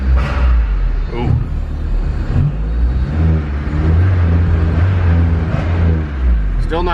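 A turbocharged Honda K24 engine in an EP3 Civic is revved close up in short, rising blips that fall back toward a rough idle, loud and rumbling, with a person talking over it.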